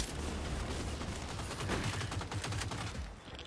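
Sustained roar of rapid minigun fire in the shooter game Second Extinction, loud and continuous with dense overlapping shots and no pause until it thins near the end.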